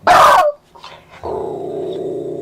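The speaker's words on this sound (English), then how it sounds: "That's our dog." A single loud, close dog bark at the start, followed by faint rustling and then a steady low hum for the remaining moments.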